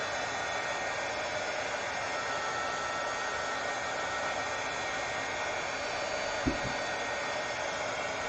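Hair dryer blowing steadily at close range while drying gloss spray, a constant broadband whoosh throughout with a brief knock near the end.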